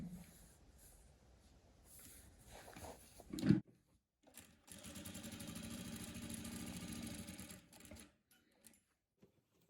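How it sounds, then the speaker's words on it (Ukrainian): Sewing machine stitching a seam along bed linen: a soft rattling run of stitches, then a short thump, then a longer steady mechanical hum of stitching that stops abruptly, all fairly quiet and with no voices. "І так завершуємо цю лінію строчки."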